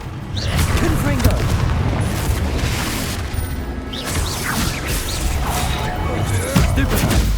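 Confringo fire-spell blasts in Hogwarts Legacy combat burst loudly amid a dense, continuous din of explosions, impacts and clashing effects, with shouted voices woven through the fighting.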